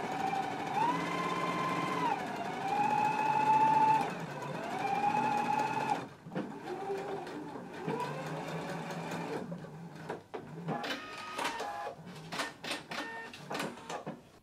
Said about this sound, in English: we're going to go ahead and stitch above the large dot, and make sure that you back stitch at the beginning and the end of your stitch